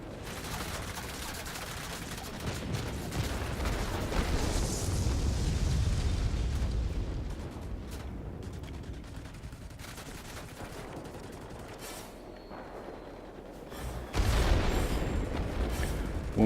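Aircraft guns and bombs on an IL-40 attack plane in the World of Warplanes game: a constant droning engine rumble is broken by rattling gunfire and heavy booming blasts, swelling midway and hitting a sudden loud burst near the end.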